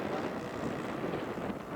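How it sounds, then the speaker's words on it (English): Strong, fierce wind rushes across the microphone at an outdoor scale model aircraft show. It makes a steady, close, dense roar with no voices and no clear engine sound. "Wind's really fierce."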